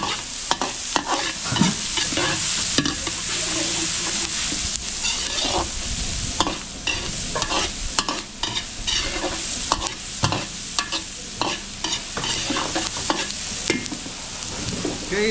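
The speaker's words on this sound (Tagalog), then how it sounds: "gigisa muna natin bawang sibuyas ng gisang-gisa" Garlic and onion sautéing in a pan at a large outdoor cooking event, with steady loud sizzling and frequent scraping stirs of a utensil against the pan throughout.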